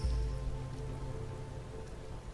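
Steady rain falls throughout, a dense hiss of drops pattering on a surface, even and close with no voices.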